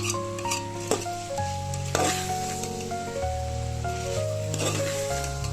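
Ginger, garlic and cumin paste frying and being stirred in a pan for ghugni, with a continuous sizzle, periodic scraping strokes and light metal clinks, while a steady musical tone plays underneath.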